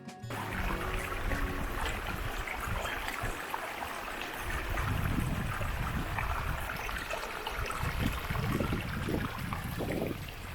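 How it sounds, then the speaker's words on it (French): Steady rushing and babbling of a small mountain stream flowing over rocks, close by and continuous, with no voices. "Et appréciez le bruit de l'eau"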